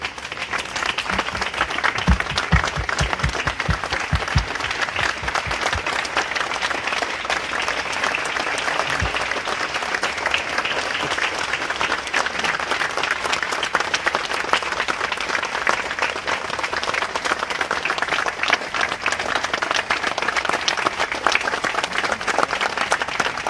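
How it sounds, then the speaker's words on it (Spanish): Sustained crowd applause for a minute-long tribute to murdered journalist Javier Valdez at a plaque unveiling, with dense, steady clapping throughout and some near, sharper claps early on. "un minuto de aplausos para Javier y su labor periodística"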